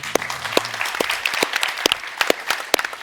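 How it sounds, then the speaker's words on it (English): An audience claps, a moderately sized crowd giving steady applause with sharp individual claps standing out, close and fairly loud. "Please, a round of applause."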